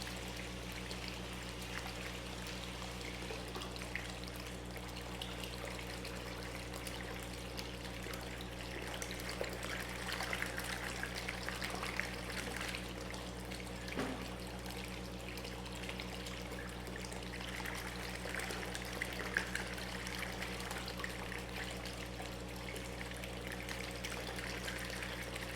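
A pump in a large fish tank pushes an aerating water current, a faint, steady trickle and burble over a low constant hum.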